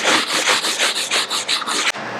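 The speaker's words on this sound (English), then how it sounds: "take our 120 grit sanding block, and if I have not said it enough, lightly sand this texture" A 120 grit sanding block rubs lightly over textured drywall in quick, even back-and-forth strokes, about ten close scratchy passes in steady rhythm before stopping.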